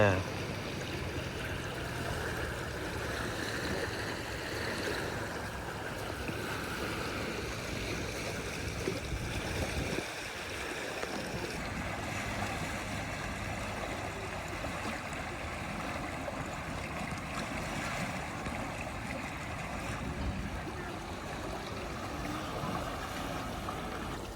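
Swollen floodwater of the Ajay river rushes beneath a bridge, a steady broadband roar of churning current that holds throughout with scattered voices faintly under it.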